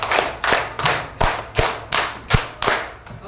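Schoolchildren in a classroom clap together in sharp, regular bursts, around nine crisp unison claps in steady succession with a slight thud on some, no voices over them.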